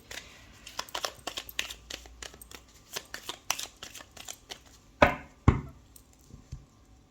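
Tarot cards being shuffled and cut by hand, a run of quick papery flicks and riffles followed by two sharper slaps as the deck is cut, fairly close and with no talk.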